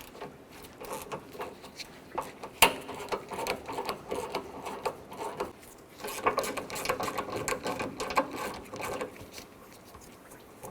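A ratchet fitted with a 10mm socket clicks as it backs out radiator bolts on a 1997-2004 Dodge Dakota, giving close, dense bursts of rapid mechanical clicking with short pauses between them.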